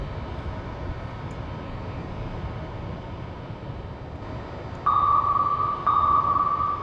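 Eurofighter Typhoon jet in a video game, a steady distant engine roar with two louder tonal whines rising over it near the end, no talking.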